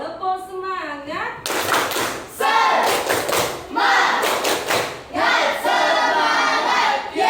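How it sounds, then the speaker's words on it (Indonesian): Schoolchildren in a classroom perform a rhythmic spirit clap chant, with sharp claps and thumps in patterned bursts under loud group chanting and shouts, following a teacher's opening voice. "Tepuk semangat."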